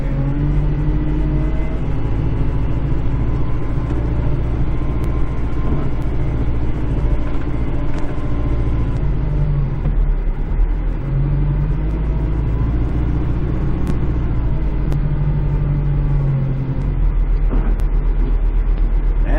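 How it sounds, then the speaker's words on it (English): Road traffic passing on a snowy winter day with bad weather, a steady loud rumble of car and truck engines with rising and fading passes throughout, no talking. "And now we have the traffic."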